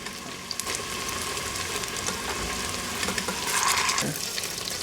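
Eight meatballs sear in an Instant Pot, a steady moderate sizzle and crackle of frying with small pops and a brief louder hiss toward the end, with no talking.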